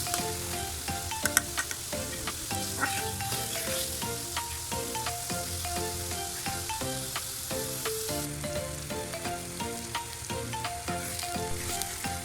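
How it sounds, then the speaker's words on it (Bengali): Sliced onions fry for beef haleem in a pan, giving a steady crackling sizzle with scattered stirring clicks and scrapes throughout, fairly quiet and with no talking. "পেঁয়াজগুলো হালকা নেড়ে চেড়ে যখন ব্রাউন কালার হবে তখন আমি উঠিয়ে ফেলবো।"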